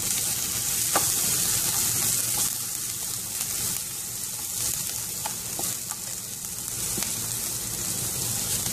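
Onion, ginger and green chili sizzling in hot coconut oil in a pan, a steady, close frying hiss with a few light clicks and stirring scrapes, no voices.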